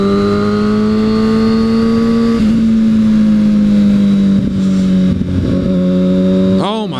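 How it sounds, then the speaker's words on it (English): A 2009 Kawasaki Ninja ZX-6R with a 600cc engine is held at a high, steady, buzzing pitch that drifts slightly up and down, then climbs in a sharp rev at the very end, loud and close. "But it revs and revs and revs and revs. It sounds like it just wants to kill"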